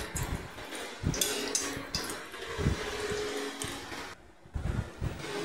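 Bori, small lentil dumplings, fry in hot oil with a steady, dense sizzle and crackle that carries on without a break, close and fairly loud.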